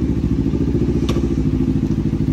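CF Moto 150NK motorcycle idling close by, a loud, steady low-pitched engine thrum with rhythmic pulsing and a brief clatter.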